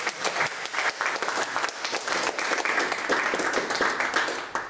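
An audience at a spoken-word poetry event claps steadily after a reading, the dense, even applause filling the room for several seconds without pause.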